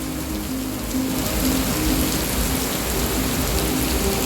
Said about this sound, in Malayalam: മഴ കുറയുന്നതേ ഇല്ല.